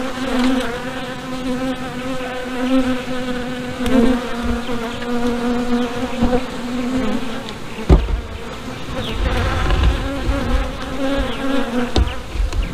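Dense, steady buzzing of many honeybees around a hive fills the air, a continuous droning hum with occasional closer passes, with no voices.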